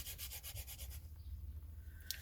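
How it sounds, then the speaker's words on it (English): Soft, steady rubbing strokes of a burnishing tool pressed over a card surface during card making, rhythmic scraping at first, then a quieter continuous rub, close and faint. "Give it a wee burnish."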